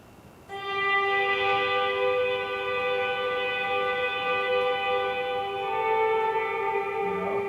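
A sustained electric guitar chord drenched in reverb with the mix set to maximum, ringing in at once after a brief quiet lead-in and washing on as a dense, steady shimmer for several seconds with no speech.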